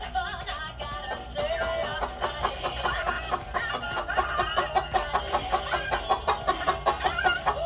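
Hens cluck steadily and close by, a dense rhythmic run of short repeated calls that grows more regular and pulsing toward the end.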